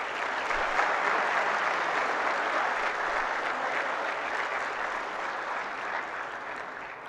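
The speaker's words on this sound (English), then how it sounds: "ladies and gentlemen, please clap" A conference audience at an inaugural session applauds in a dense, steady wash of many hands clapping, which holds for several seconds and then slowly fades a little toward the end.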